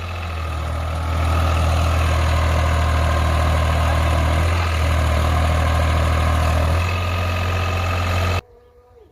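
A heavy New Holland 3600-2 tractor engine drones loudly and steadily at close range, in fourth low gear pulling a nine-tine cultivator, then cuts off abruptly near the end.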